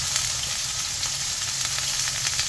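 Steady, loud sizzling of chopped medium onion frying in hot oil, a continuous crackling hiss close up with no talking.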